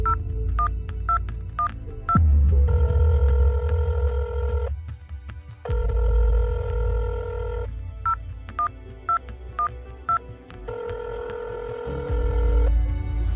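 A telephone rings in repeated bursts with pauses between, interleaved with beeping dial tones, loud and close with no one answering.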